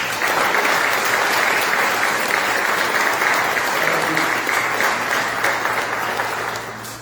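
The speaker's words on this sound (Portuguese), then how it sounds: "Você pode aplaudir Jesus?" A large church congregation claps steadily and loudly, a dense sustained applause that holds for several seconds before beginning to fade.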